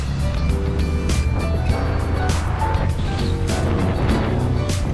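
A Honda MSX125 motorcycle engine running in third gear, fitted with a 428 chain and changed sprockets, heard as a steady loud drone with wind rush and a few rising revs, close and continuous.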